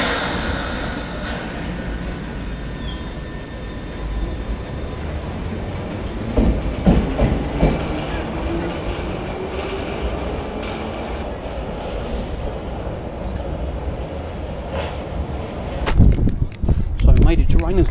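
A London Underground Piccadilly line train rumbles in on the rails, wheels squealing and clattering as it slows, with a brief sharp hiss near the end.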